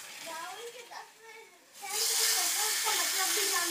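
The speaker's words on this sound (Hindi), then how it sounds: "तड़का लग रहा है" A tadka tempering hits hot oil while sambar is being cooked, breaking into a sudden loud, steady sizzle midway that carries on under voices talking.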